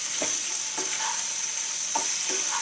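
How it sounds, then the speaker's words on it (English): Pasta and vegetables stirred in a hot pan over a low flame, a soft steady sizzle with a few light scraping strokes of the spoon, close and alone. "Now we'll slow down the flame and we'll add our pasta in it. Give it a good mix once."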